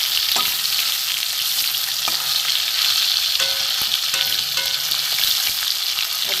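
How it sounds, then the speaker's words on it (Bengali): Hilsa fish pieces fry in hot mustard oil in a pan, giving a loud, steady, close-up sizzle with occasional light clinks of a utensil. "মাছগুলো একটু ভেজে নেব"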